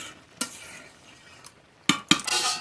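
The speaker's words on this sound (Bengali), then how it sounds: "একটু নেড়ে সব জায়গায় মিশিয়ে দিলাম।" A spatula stirs and mixes food in a cooking pot for broken-rice khichuri, with a few scraping strokes and clinks, a quiet pause between them, then two sharp scrapes and a brief sizzle at the end.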